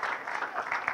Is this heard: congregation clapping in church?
yes